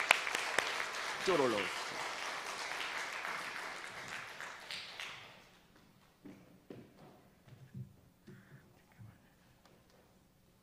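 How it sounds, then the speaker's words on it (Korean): A church audience claps loudly for about five seconds to welcome a guest speaker, then the clapping fades into scattered footsteps and knocks while someone speaks briefly. "우리 앞으로 모실 때 우리 큰 박수로 여러분 맞이해 주시기 바랍니다."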